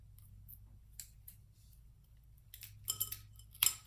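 Scissors snip through the string of a waist bead strand at the anchor: a few quiet, close cuts, then a brighter metallic snip near the end, over a low background hum with no talking.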